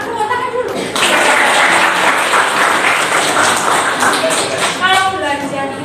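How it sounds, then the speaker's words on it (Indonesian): A classroom audience breaks into dense, sustained clapping for several seconds, loud and continuous, with a brief voice before it starts. "tepuk tangan dulu."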